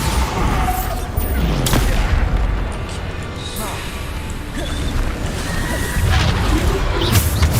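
The Bombarda explosion spell is cast during Hogwarts Legacy gameplay, and repeated booms and crashes mix with dense combat noise and spell effects in a loud, continuous battle.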